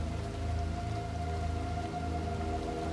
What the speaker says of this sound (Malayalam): നല്ല മഴയുള്ള ഇടിയുള്ള രാത്രി.